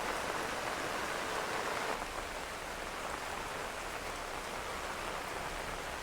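Heavy monsoon-style rain pours down steadily during a flood-causing downpour, a dense, continuous hiss of drops on surfaces with no voices, unbroken from start to finish.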